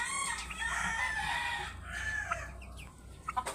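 Farm chickens cluck and squawk busily at feeding time, with a rooster-like call, close and continuous, then thinning out into a few sharp clucks near the end.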